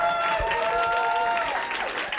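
An audience at a comedy festival claps and cheers in a steady, full burst of applause with crowd noise throughout, while a voice calls out over it.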